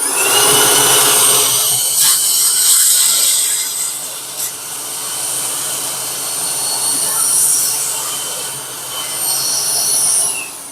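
A 9700Pa handheld vacuum cleaner runs with a loud, close, high-pitched whine and airy rush that rises and dips slightly as it moves, broken by brief knocks.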